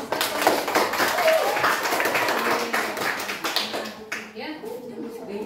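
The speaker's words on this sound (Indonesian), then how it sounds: "Oke, tepuk tangan buat kelompok 1." Classroom applause for a student group in a Grade 7 junior high lesson, a steady wash of many hands clapping for about four seconds, then thinning out and trailing off near the end.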